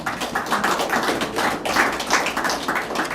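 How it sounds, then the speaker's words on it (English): Audience applause at the 2016 SFL season launch for the outgoing president, Mr. Johnson: steady, dense clapping from a crowd filling the room, sustained evenly throughout. "could I ask you all to give him a round of applause for the work that he's done"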